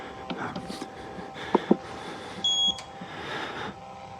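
A short high-pitched electronic beep from the horror video game Outlast sounds once amid quiet background noise and a few soft clicks and thumps.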